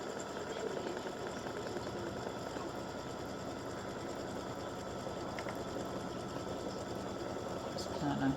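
An embroidery machine stitches a tack-down of batting, a fast, even mechanical chatter running steadily and close throughout, with a voice speaking over it.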